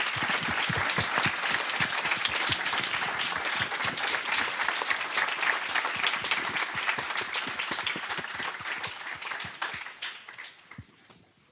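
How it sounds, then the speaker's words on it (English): Audience applause at a summit and alumni reunion, many hands clapping in a lively sustained burst that gradually thins toward the end. "A round of applause."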